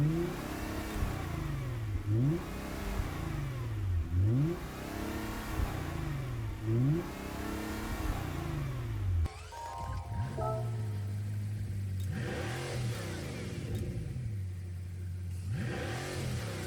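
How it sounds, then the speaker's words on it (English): In Gran Turismo 7, a Bugatti Chiron V16 engine swapped into a Nissan GT-R T-Spec '24 revs repeatedly, rising and dropping in rhythmic sweeps, then holds a sustained high drone with further rev swells. "Let me show you the Bugatti engine. 1851 horsepower."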